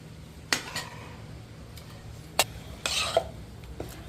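Tempered bottle gourd being mixed into handvo batter in a bowl, with a few sharp spoon clinks against the bowl and short wet stirring scrapes, close and intermittent over a quiet background.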